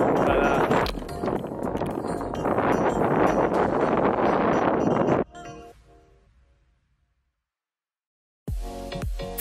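Loud, roaring mountain wind near the summit of Half Dome in Yosemite buffets the microphone for about five seconds, then drops to near silence before another sharp gust bursts in at the end.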